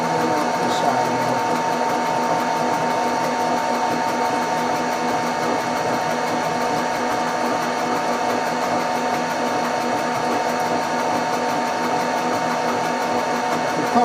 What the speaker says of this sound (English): we can go start milling out the side now